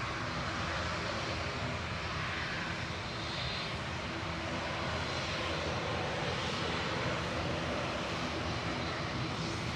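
Ryanair jet operated by Malta Air, registration 9H-QDT, bound for Verona at Manchester Airport, giving a steady, broadband engine roar that holds evenly throughout at moderate level, with no talk over it.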